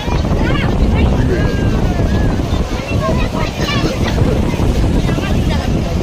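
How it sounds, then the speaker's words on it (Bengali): Heavy sea waves roll in at Digha beach, a loud rushing surf mixed with wind buffeting the microphone. People talk over the roar. "এত ঢেউ হচ্ছে"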